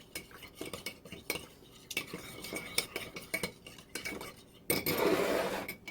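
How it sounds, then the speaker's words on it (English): A spoon stirs a quarter cup of cold water mixture in a dish for peanut butter pie, quick repeated clinks and scrapes against the bowl, close up and alone. "we're going to add a 1/4 cup of cold water. And we're just going to stir that up to get it dissolved."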